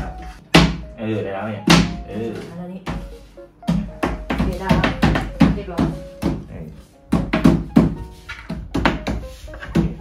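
Repeated knocks and thunks from cat condo parts being tapped into place during assembly, several sharp hits in irregular bursts mixed with someone talking throughout.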